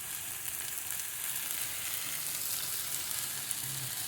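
Chicken molokhia with bouillon cubes and added water sizzles steadily in a pan, a continuous close hiss with faint bubbling that holds an even level throughout, with no voices.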